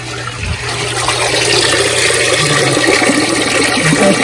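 A Samsung top-load washing machine, earlier stuck with no rinse, spin or drain, drains its water in a loud, continuous rushing flow with a low steady hum underneath.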